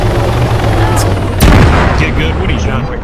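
Helicopter flying in the military game Arma 3, a loud steady rotor drone with a sharp bang partway through amid dense game noise.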